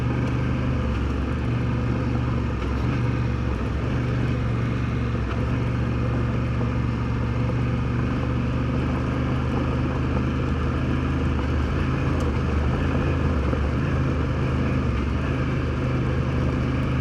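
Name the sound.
Honda Africa Twin motorcycle riding on gravel road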